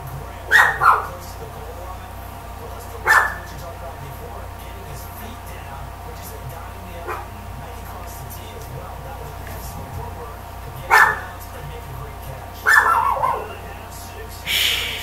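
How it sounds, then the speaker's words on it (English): Dogs bark in short, sharp bursts, a couple of quick barks near the start and more spaced out every few seconds over a low, steady background. "Dogs."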